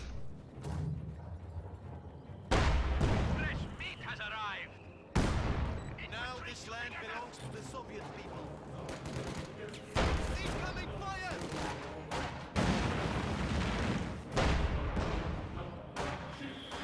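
Heavy mortar and gunfire in a World War II strategy video game, with German mechanized units nearby; loud repeated booms and crackling shots burst out in waves over a steady din of battle.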